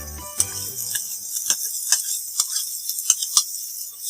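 Cauliflower, carrots and other vegetables being stirred in a pan, a series of sharp spoon clicks and scrapes against the metal at an uneven rhythm over a faint sizzle, close and fairly crisp.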